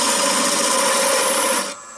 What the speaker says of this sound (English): So I'm going to part this off